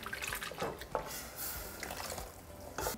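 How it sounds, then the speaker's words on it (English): Water splashes and trickles into a blender cup in short, quiet bursts, close by, with small drips in between. "Just going to add a little bit more water to my blender cup."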